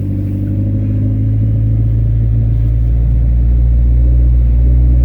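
A Dodge SRT-4 fitted with a new exhaust idles at about 1800 RPM, giving a steady, loud, deep rumble that holds evenly throughout with no voices.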